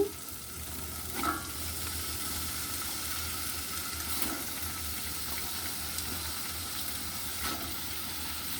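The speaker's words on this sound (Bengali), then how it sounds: "এখন আমি সিম আর আলুগুলোকে দিয়ে দিচ্ছি" Beans and potatoes dropped into a pan of fried onions sizzle with a soft, continuous hiss at low level, with a few faint clinks of stirring over it.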